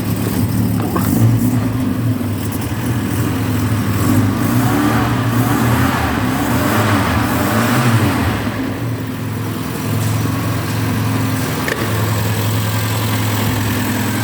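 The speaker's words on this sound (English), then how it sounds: "I'll get my foot on the throttle" A 1973 Volvo 144 DL automatic runs close by, its engine held at a steady idle and then revved under the throttle, rising and falling in a continuous low rumble throughout.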